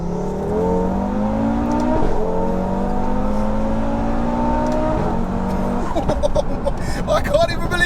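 A 685bhp Audi RS3 accelerates hard at full power, engine note climbing steadily through the revs with brief dips at gear changes around two and five seconds, loud and close from inside the car, with voices talking over it.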